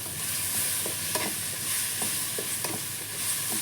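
Large prawns sizzling steadily in a frying pan, with the crackle of hot oil and occasional stirring clinks and scrapes, close up and continuous, no talking.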